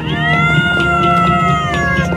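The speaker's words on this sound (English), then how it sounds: "Why can't you stop it, kitty?" A cat meows in a long drawn-out whining call from the Night in the Woods game, loud and close, with tonal rising and falling pitch lasting about two seconds.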